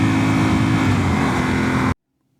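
Yamaha Tenere 700 from 2025 with a flashed ECU, stock exhaust and airbox, bouncing on its rev limiter in a loud, sustained buzzing roar that cuts off abruptly to silence.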